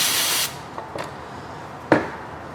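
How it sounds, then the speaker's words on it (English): Carburetor cleaner sprayed onto an engine's oil filter mating surface on a Saturn S Series during an oil change: a loud, steady aerosol hiss for about half a second, followed by faint handling clicks and a sharp knock. "So we're going to go ahead and clean this up real good using some carburetor spray."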